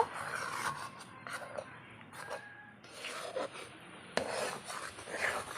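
Palm fruit pulp being stirred in a pan over a clay stove, a soft scraping and rubbing that repeats in uneven strokes, close and fairly quiet, with no talking.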